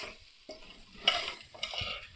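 Okra and meat frying in a karahi as the pieces are stirred, soft sizzling with brief bursts of scraping and jostling, close up and without voices.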